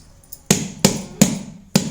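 Four sharp metallic knocks on an upturned cake pan being tapped to release an eggless cake, spaced roughly a third of a second apart, each with a short ringing tail, preceded by a faint light tap.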